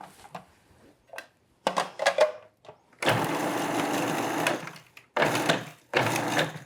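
Flour, salt and baking powder being pulsed in a food processor, with three loud whirring bursts of about two, one and one seconds separated by short gaps, preceded by small clicks and knocks.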